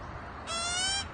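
A pet magpie gives a short, harsh call with a buzzy, stacked tone lasting about half a second, fairly close and loud over a steady low background hum.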